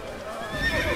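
A horse in Assassin's Creed on PS3 lets out a brief, close whinny that rises in pitch and swells louder toward the end, heard alone without speech.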